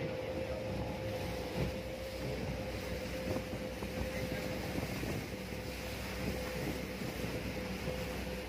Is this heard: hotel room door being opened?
no